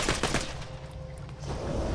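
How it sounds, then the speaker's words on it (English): Rapid gunfire in the video game Borderlands 2, dense bursts of shots with bullets ricocheting, loud and continuous apart from a short lull in the middle before firing picks up again. "Bullets going everywhere now."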